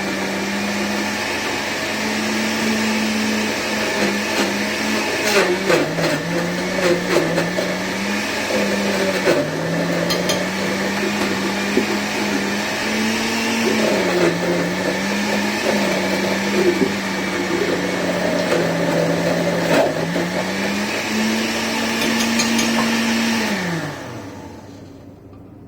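A blender whirs steadily as it purées frozen strawberries and vanilla creamies into a smoothie. Its motor pitch dips and rises repeatedly as the frozen chunks catch and free up, then winds down and stops at the end.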